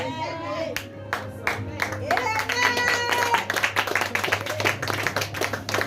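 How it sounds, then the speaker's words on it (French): A small burst of clapping from two people during a French-language sermon, light hand claps mixed with a speaking voice and a steady low hum in the room. "C'est 2 personnes qui acclament"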